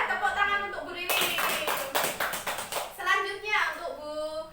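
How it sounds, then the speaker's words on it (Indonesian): A group of people clapping hands at a child-protection training session, a burst of rhythmic claps in the middle, with talking before and after. "Tepuk tangan untuk Bu Ririn."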